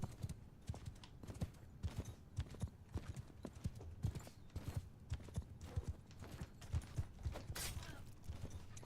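Hooves clattering in a rapid, uneven rhythm as several cavalry horses gallop in a video game battle, steady and fairly close throughout, with a faint voice briefly underneath.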